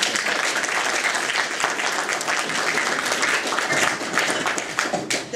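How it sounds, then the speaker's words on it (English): Audience applause at a jobs and economy briefing, welcoming Congresswoman Jan Schakowsky: dense, steady clapping from a crowd filling the room, holding loud throughout with a few sharper claps near the end. "Let us all give her a round of applause."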